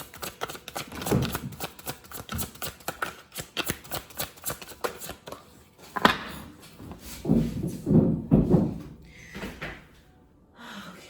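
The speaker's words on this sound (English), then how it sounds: "enough with the cards flying everywhere" Tarot cards being shuffled by hand, a run of quick papery riffles and soft slaps in uneven bursts that settle into a few closer, heavier shuffles before trailing off. No one speaks.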